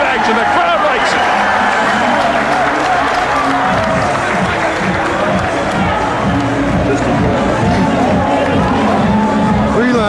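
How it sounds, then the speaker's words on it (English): Boxing crowd roaring and cheering at the end of a round in a 1989 Tyson fight, a dense continuous wall of arena noise with applause and chatter, loud throughout, with a voice talking over it. "The crowd likes it."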